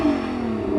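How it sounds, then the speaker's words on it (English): Nissan GT-R Nismo engine held at a steady rev, a loud, close, continuous mechanical drone with a slight rise near the end. "Jürgen, go on, rev up your car"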